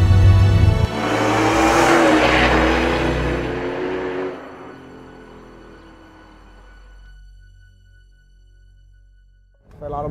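A 650-horsepower muscle car revs hard on a Cairo street, a loud roaring burst that fades to a low idle rumble before another rev starts at the end.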